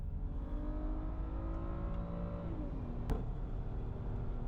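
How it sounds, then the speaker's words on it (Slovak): Hyundai car accelerating at full throttle: a continuous engine drone rising in pitch, with a gear-change dip partway through, heard from inside at moderate loudness. "A už plný plyn."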